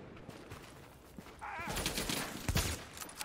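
Rapid gunfire from a gun in the video game The Division starts partway through as a quick burst of loud cracks over a low background rumble, with faint game noise before it.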